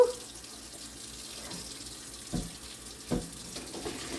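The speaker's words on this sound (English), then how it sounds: "pour them out and let them drain" Liquid pours and splashes into a sink as red cinnamon pickles are drained, a low running-water wash with a couple of brief louder splashes, no talking.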